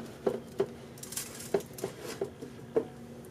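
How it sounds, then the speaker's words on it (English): Food being set into a dark pan made for a sun oven, with several light clinks and taps of metal and utensils spaced irregularly over a few seconds, close by and fairly quiet. "we're going to put it into our pan that's specifically made for sun ovens"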